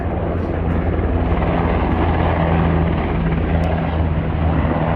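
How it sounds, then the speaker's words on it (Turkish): Loud, continuous rotor and engine drone of helicopters flying side by side overhead near an aviation museum, a steady thrumming roar with no voices. "helikopterler yan yana gidiyor"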